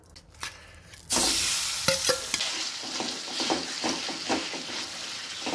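Crushed figs roast in ghee in a pan, with a loud continuous sizzle kicking in after a quiet start and punctuated by repeated spoon scrapes and stirring clicks up close.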